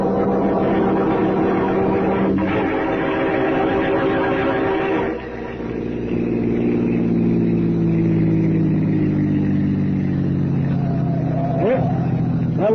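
Car engine in an old-time radio drama starts up with a brief burst, then a steady mid-pitched motor drone rises and accelerates as the vehicle drives off, loud and close throughout.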